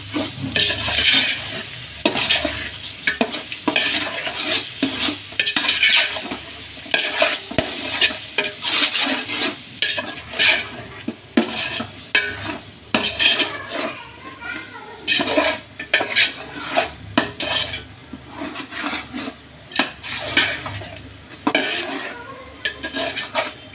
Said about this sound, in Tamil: மசாலாலாம் நல்லா பச்சை வாசனை போகிற அளவுக்கு எண்ணெயில் வதக்கிக்கலாம்.